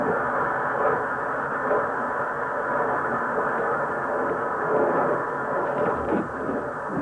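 A smooth, quiet train runs along the rails with a steady low rumble and soft continuous hum, no distinct clacks, heard at an even level throughout.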